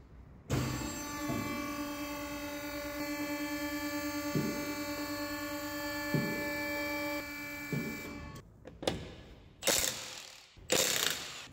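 A tie rod nut is loosened on the front steering of a 1972 Peugeot 204, with a ratchet clicking steadily and close over a constant mechanical hum, then several sharp metallic knocks near the end.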